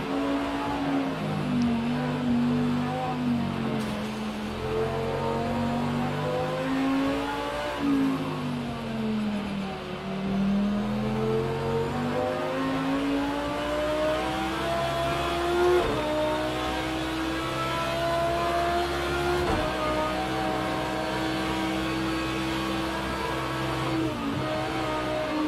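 An Audi R8 LMS GT3 race car at the 24-hour Nürburgring race in Project Cars 2, its engine roaring loudly and continuously as it revs up and down through gear changes, with no voices.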